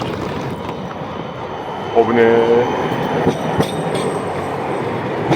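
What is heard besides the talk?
tram passing by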